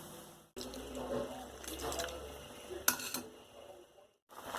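Water pours from a tap or jug into a pot of cooking goat meat, stockfish and pomo for okra soup, a steady near splash and gurgle lasting several seconds with brief kitchen clatter.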